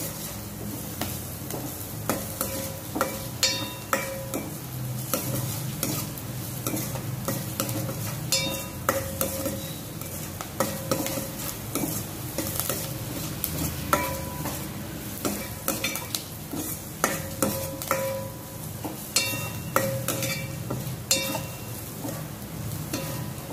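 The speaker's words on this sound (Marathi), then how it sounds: "कांदा मऊ होई तोपर्यंत हाय फ्लेमवर चांगला शिजवायचा आहे" Chopped onion fries over a high flame for a Malvani prawn curry, a steady dense sizzle broken by repeated scraping stirs of a spatula against the pan, close and continuous with no voices.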